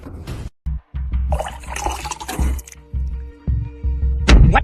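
Water poured out in an animated scene, a few short splashing, gurgling bursts with gaps between them.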